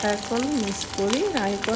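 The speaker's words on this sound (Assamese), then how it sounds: "এয়া তেলত দি ভাজিছোঁ" Jaha rice pitha frying in oil gives a steady sizzle that runs beneath a person talking nearby for the whole short stretch.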